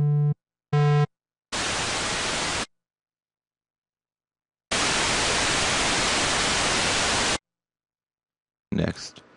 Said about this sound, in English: start by selecting the white noise oscillator